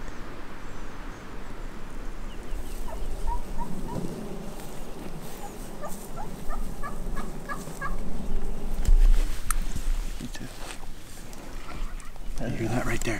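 Wild turkeys gobbling in Texas in spring, distant rapid rattling calls from two birds under outdoor wind noise and rustling, with people talking quietly nearby.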